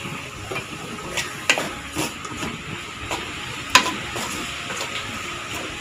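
Chicken fried rice frying in a pan just after soy sauce is poured in, a steady hiss with occasional scraping stir strokes and a couple of sharper clinks, moderately loud and free of talk.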